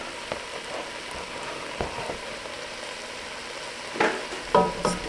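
Poblano peppers fry and are stirred in a pot, a soft continuous sizzle broken by a few sharp scraping clacks of the spoon toward the end, close and alone.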